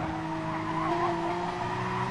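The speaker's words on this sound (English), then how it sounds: "As the tyres really squealing there." Porsche Cup race car tyres squeal steadily in Gran Turismo Sport at Spa, a sustained high screech lasting about two seconds over a continuous engine drone.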